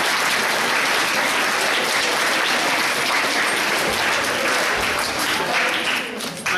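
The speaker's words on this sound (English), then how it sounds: "so give yourselves a clap." Students clap for themselves at the end of a school term, a dense, continuous round of applause that stays loud and even before tapering slightly at the very end.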